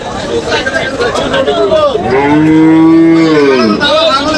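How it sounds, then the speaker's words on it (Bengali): A cow gives a long, loud, falling moo that lasts over a second, with crowd chatter and other animal noise around it at a busy outdoor cattle market. "আমার এই সাইডে যে গরুগুলো দেখতেছেন সবগুলো বড় গরু"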